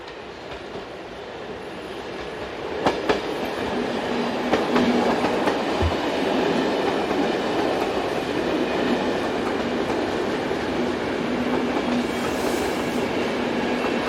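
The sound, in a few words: Class AM96 trains passing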